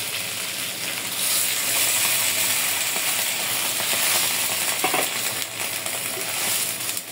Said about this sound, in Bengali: এখন ঝোলের পানি দিয়ে দেবো।